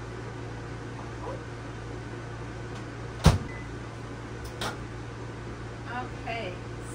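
A microwave oven heating chocolate at 30% power hums steadily, with one sharp clunk like the door shutting midway and a few softer knocks afterward.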